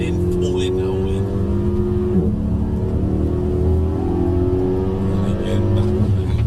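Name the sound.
Mercedes-Benz car accelerating on track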